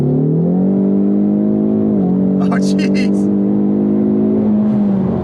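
A Ford EcoBoost Mustang in drag strip mode accelerates hard, its engine droning loud and close with a rising, steady pitch that dips briefly at a gear change, while a man briefly exclaims over it.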